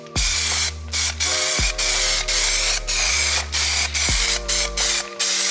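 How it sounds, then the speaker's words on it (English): A spray gun painting a BMW E36 drift car chassis hisses in short, repeated bursts about a second apart, close and loud, with a mechanical hum between bursts. "It's a perfect day for a spray and a beer."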